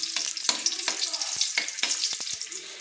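Green chillies and dried whole chillies sizzle in hot oil in a pan as they are stirred, bright crackling frying broken by sharp scraping strokes of the spoon, close and fairly loud.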